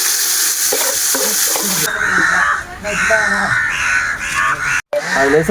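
Steady sizzling of chicken gravy with garlic paste and tomato frying in a pan with stirring scrapes, while a person talks over it and a crow caws nearby.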